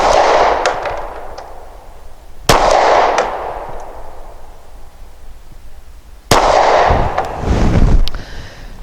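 A compact Glock G43 pistol firing SIG 365 115-grain ammunition: three loud, sharp shots spaced a few seconds apart, each cracking close by and trailing off in a short echoing decay.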